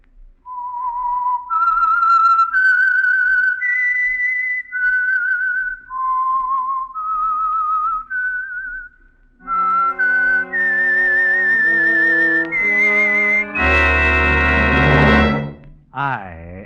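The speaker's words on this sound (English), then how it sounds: "the signal to listen for is this whistle that identifies the Signal Oil program, The Whistler" A lone human whistle plays the signature melody of The Whistler radio mystery program, a clear rising and falling tune of sustained notes, with orchestral music swelling in near the end.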